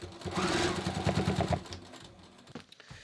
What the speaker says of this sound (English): I'm just going to stitch in right here along the side seam just to hold it.